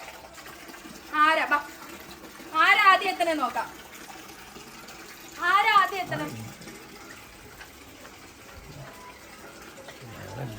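Bursts of water splash and gush against an Omni van being washed, three separate surges with quieter gaps, while children chatter and call out nearby.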